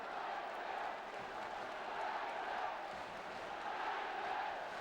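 A large football crowd at a 1970s First Division match roars steadily with broad, sustained cheering, a continuous dense wash of voices with no clear breaks.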